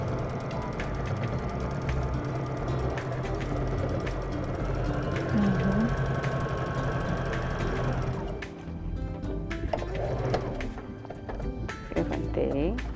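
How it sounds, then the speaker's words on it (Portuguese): A sewing machine stitching a slipper sole, a rapid mechanical chatter running steadily for several seconds, then stopping as it is lifted and handled, with someone talking over it. "Então essa parte aqui eu costuro ela inteira."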